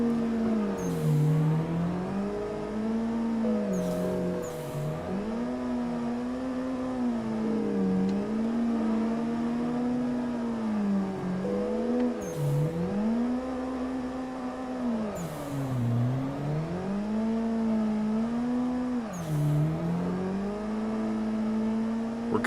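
A car engine revs hard while drifting in a sim racing game, the pitch rising and falling in repeated swoops over a continuous loud drone with brief bursts of tire noise, no talking.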